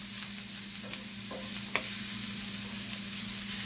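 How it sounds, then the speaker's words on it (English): Seasoned tin mackerel sizzles steadily in a pan while a utensil stirs it with a few scraping clinks, close and continuous, with no talking. "just mix it up, and then you're gonna cover it and just let it steam."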